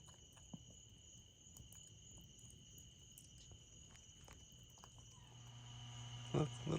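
Crickets in a reptile enclosure at an animal sanctuary, a quiet, steady, high, continuous chirping with soft rustles and a small bump of noise toward the end.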